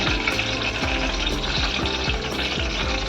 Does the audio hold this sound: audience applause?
no